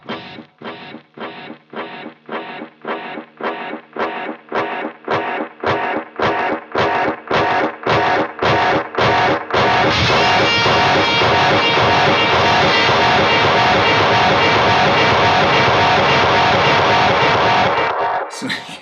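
Tape delay repeats from a BOSS Space Echo unit: rhythmic echoing bursts stack up faster and denser until they merge into a loud, sustained, self-oscillating wash before cutting off near the end.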